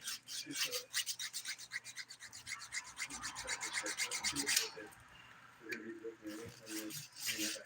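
A nail file rasps rapidly back and forth across a dip-powder fingernail being shaped, in quick close strokes that pause briefly and resume, with a voice speaking at times.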